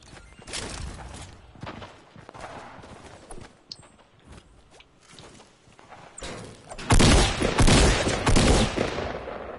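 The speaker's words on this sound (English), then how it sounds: "I hear gunshots" Gunfire in the Fortnite battle royale video game: sharp bursts of shots, scattered at first, then a loud rapid volley of repeated fire near the end, mixed with footsteps and movement sounds.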